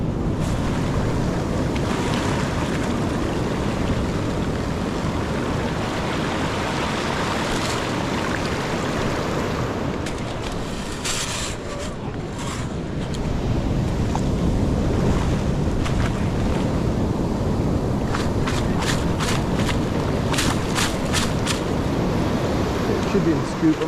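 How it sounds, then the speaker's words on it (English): Heavy ocean surf pounds a rocky, gravelly beach, the waves strong enough to toss boulders; a steady loud roar of breaking water and wind noise fills the whole stretch, with brief rattling clatters near the end. "The waves are still throwing boulders all over the place."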